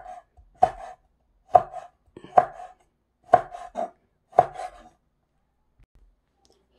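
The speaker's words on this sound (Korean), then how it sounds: "조금씩 썰어 놓을게요." Knife slicing chili peppers into thin pieces on a cutting board, five crisp, evenly spaced chops close by, followed by a stretch of near silence.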